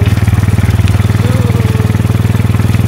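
A motorcycle engine on a hill climb runs close and loud, a steady, even, rapid thumping beat with a deep rumble throughout.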